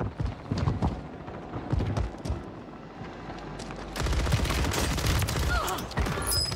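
Bursts of automatic gunfire in the Warzone shooter game, irregular sharp shots early on giving way to a denser, sustained volley toward the end, fairly close and loud.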